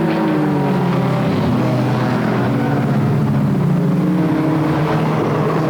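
Pure stock race cars roar around Flamboro Speedway in a loud, dense pack, their engines droning and overlapping continuously with shifting pitch as the field passes close by.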